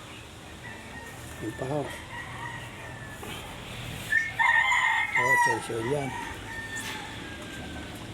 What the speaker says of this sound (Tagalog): Mga manok, mga inay lang.